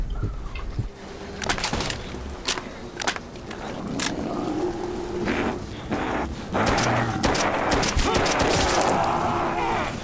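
Pistol gunfire in Call of Duty: World at War Nazi Zombies, a string of sharp shots scattered across the clip among game effects, with no speech.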